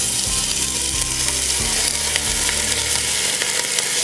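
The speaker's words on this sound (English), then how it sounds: "1 large white sweet onion that I've sliced very thinly on the mandolin. So we're going to go ahead and add that in." Thinly sliced large white sweet onion hits hot oil in a stew pot, giving a loud, dense, steady sizzle with a few low clunks of stirring, and no voices.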